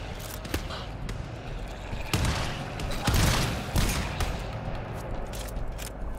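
Shotgun fire in a video game: several heavy, booming blasts land a second or so apart over a constant bed of loud combat noise, with other sharp reports scattered around them.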